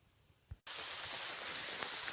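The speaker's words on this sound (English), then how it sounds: "spot of rain, not actually a bad thing" Light rain falls by a river while fishing for barbel, starting abruptly after a brief quiet moment and then pattering as a steady, even hiss until the end.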